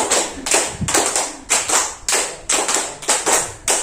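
A group of teachers performs a rhythmic clap game in unison, clapping five beats three times over, crisp and loud, with short pauses between the sets and no voices.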